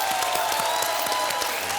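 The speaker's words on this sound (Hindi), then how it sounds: "तालियां।" Short burst of studio audience applause on a televised game show, bright and dense, with a faint tonal music bed underneath throughout.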